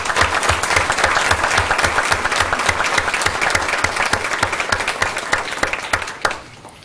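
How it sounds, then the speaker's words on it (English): A school board meeting audience gives a round of applause for students and participants, steady dense clapping from a large crowd filling the room, loud and sustained before tapering off at the end. "Let's give all of our students and all our participants another round of applause"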